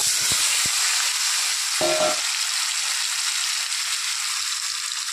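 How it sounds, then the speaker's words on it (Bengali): Potatoes fry in hot oil, a loud, constant close sizzle with brief clinks of a utensil against the pan early on. "ওই তেলের মধ্যে আমি আলুগুলো ভেজে নেব।"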